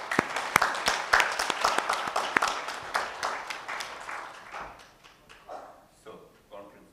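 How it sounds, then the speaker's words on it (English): An audience at the close of a conference gives a burst of applause, dense clapping that starts loud and thins out over several seconds into scattered claps. "So let me propose to give a big round of applause to all of them."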